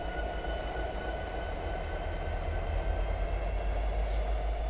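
A locomotive rolling down the track in Train Simulator 2018, a steady low rumble and drone of wheels and engine holding at even level throughout, with a faint high squeal near the end.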